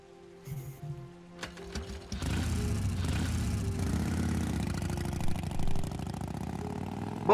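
A motorcycle engine in the video game Heavy Rain starts up after a few clicks and settles into a steady mid-pitched running rumble, fairly close and continuous, with a brief rise near the end.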